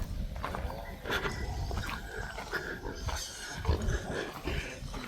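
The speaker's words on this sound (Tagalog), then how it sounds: "Laki ng baboy oh." A large pig grunts and snorts repeatedly at close range in an outdoor rural setting, with continuous rough noise throughout and no clear talk over it.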